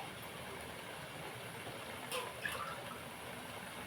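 Water pours steadily into a pot of fish curry in a soft, continuous stream, faint and close, with a couple of brief splashy accents midway.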